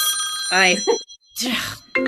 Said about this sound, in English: God, silence your phone on the podcast, for heaven's sakes.